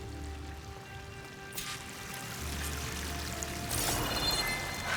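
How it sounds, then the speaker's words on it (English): Rushing water pours steadily from a waterfall in Horizon Forbidden West, a dense, continuous wash that swells louder toward the end with no speech. "The waterfall must be coming from somewhere."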